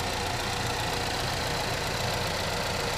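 The 2.4 liter Ecotec engine of a 2013 GMC Terrain with all-wheel drive runs at a steady idle, a constant close hum with a faint ticking texture and no talking.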